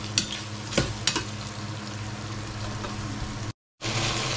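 Ginger frying in hot oil gives a steady, close sizzle with a few sharp spatters and stirring clicks, cut off by a brief silence near the end before the sizzle resumes.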